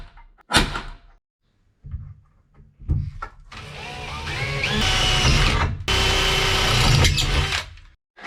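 A few knocks and clunks, then a power drill whirs loudly for several seconds, briefly stopping and starting again, close by, drilling holes while fitting headliner bows and bow clips in a 1951 Chevy.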